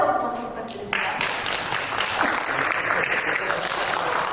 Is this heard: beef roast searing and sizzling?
no